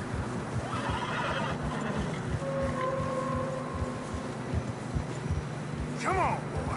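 Horses whinny and snort as they struggle through deep fresh snow on a narrow trail in Red Dead Redemption 2, with a sharp neigh near the end over a low, steady wind and hoof sounds.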